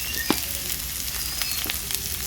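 Chopped onion, garlic and green chilli frying in hot oil make a dense, continuous sizzle and crackle up close, with a few brief stirring knocks.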